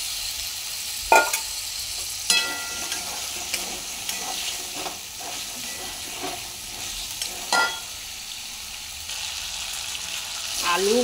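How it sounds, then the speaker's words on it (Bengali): Potatoes frying in a pan with cumin, coriander powder, salt, turmeric and chili powder, stirred by a spatula with repeated scraping clacks over a steady close sizzle. "আলু মশলার সাথে কষানো হয়ে গেছে"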